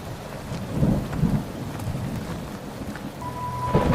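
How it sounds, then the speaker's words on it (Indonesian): Heavy rain pours steadily in a horror animation, with deep thunder rumbling in swells beneath the constant hiss of the downpour. "Lalu hujan pun turun."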